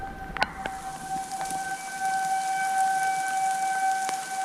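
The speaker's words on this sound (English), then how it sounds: "Yeah, we've got a siren nearby. It's pretty loud." A steady, wailing outdoor tornado warning siren sounds from nearby during a storm, holding a sustained tone over light patter of rain and a few drips.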